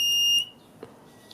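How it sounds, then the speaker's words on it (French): A battery regenerator's buzzer sounds at the end of a charge cycle: a steady high electronic tone for under half a second, then cut off, followed by a faint click. "c'est la LED rouge qui est allumée et le buzzer qui sonne"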